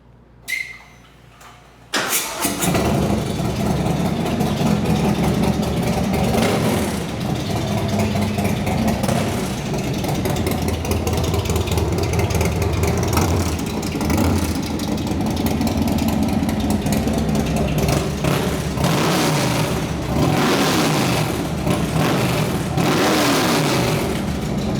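A motorcycle with a stage one upgrade cranks and fires up, then roars loudly and continuously close by, its engine revving and rumbling with repeated throttle blips for over twenty seconds.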